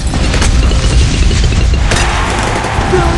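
Fire bomb explosions in the Bloons TD 6 video game: a dense, loud stream of booming blasts and crackling bursts that overlap continuously, with a sharper burst near the middle.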